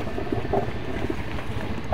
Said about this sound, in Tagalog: may tumutunog na bangka